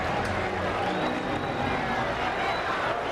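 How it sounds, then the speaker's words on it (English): Baseball fans booing at a White Sox home game against the Twins in 1993, a broad, steady crowd roar filling the ballpark, distant and sustained with no distinct individual voices. "the fans are booing, even though they still have a large lead"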